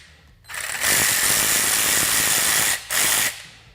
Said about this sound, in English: we'll go ahead and remove the screws.